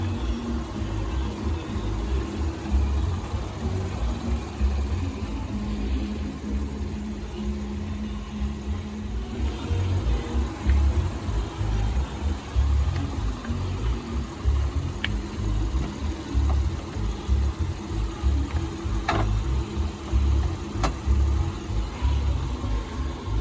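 A 2023 Honda Passport AWD with a 3.5-liter V6 idles close by, holding a steady, low engine hum for the whole stretch with faint clicks and no talking.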